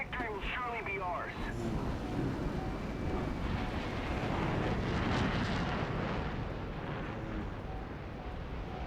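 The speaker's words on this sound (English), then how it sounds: "There's an aircraft." A War Thunder aircraft engine drones overhead as a steady, broad roar that swells toward the middle and fades slightly at the end, heard alone without talk.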